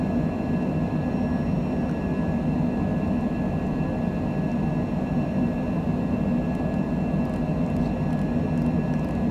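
Steady, even roar of a Cessna Citation Longitude business jet climbing out of Haneda at dawn in a flight simulator, a continuous loud engine drone with a faint high whine and no talk.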